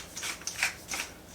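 A pepper mill twisted over a pan of minced meat for gyoza filling, grinding black pepper in a few short, close crunchy bursts.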